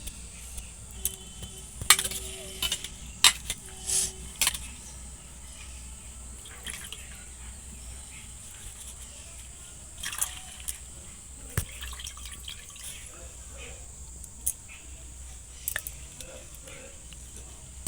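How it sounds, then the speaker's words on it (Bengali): Fresh coriander leaves being washed in water: scattered splashes, drips and light sloshing, close and quiet, with a few sharper clinks. "পাতাগুলো জলের মধ্যে দিয়ে ভালো করে একদম আগে ধুয়ে নেব"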